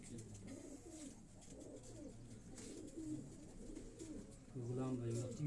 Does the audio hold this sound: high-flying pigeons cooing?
yes